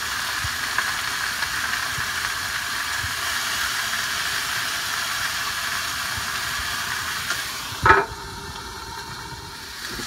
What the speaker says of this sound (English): Now you want to flip it over and sear the top, but the butter will be melted at the bottom of the pan.